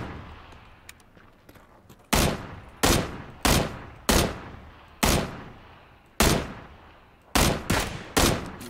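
Loud gunshots in the video game Don't Shoot Me, I'm Friendly! crack out one after another, about ten sharp blasts at uneven intervals, each with a short decaying tail over a low background hum.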